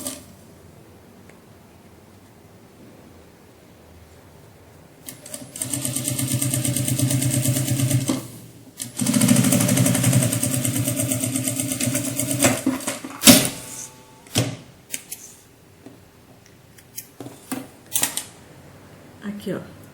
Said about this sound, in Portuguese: Nós vamos fazer agora uma costura de pés ponto aqui, nessa parte, onde tem a abertura, pra gente poder fechar essa abertura.